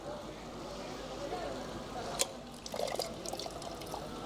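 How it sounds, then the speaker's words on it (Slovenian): A classic tap on a public drinking fountain at the Hercules fountain in Ljubljana runs with a faint trickle and splash of water, heard quietly outdoors with brief clatters. "Tudi iz tukaj teče voda."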